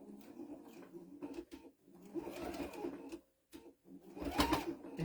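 A sewing machine with a walking foot stitches through thick folded towel in short, close bursts of rapid mechanical chatter, pausing briefly between runs.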